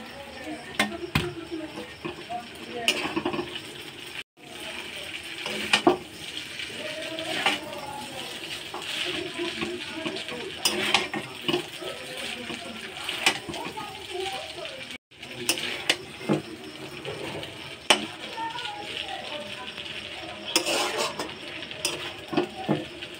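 Chow mein noodles are tossed and stir-fried in a pan, with scraping, clattering utensil strikes and a steady sizzle running throughout, close and fairly loud.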